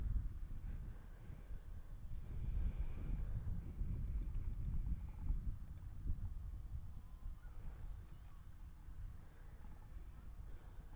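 Wind gusts buffeting the microphone at an outdoor high school softball doubleheader, a steady low rumble swelling and easing across the whole stretch with faint distant sounds, no talk.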